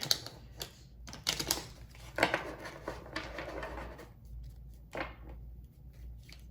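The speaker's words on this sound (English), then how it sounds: "She seems to really want me to give this like a good thorough shuffle." A tarot deck gets a thorough shuffle, with bursts of crisp card riffling and clicking up close alongside softer shuffling and pauses, and no talking.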